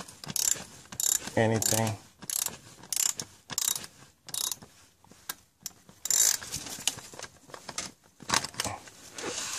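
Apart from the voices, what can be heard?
ratchet tightening bolts on Mercedes thermostat housing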